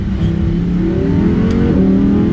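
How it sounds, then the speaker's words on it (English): An Audi R8 V10 Plus engine revs up and blips as it automatically rev-matches a downshift to second gear, a deep steady roar building in pitch, heard from inside the car. "this even rev matches for you down to second"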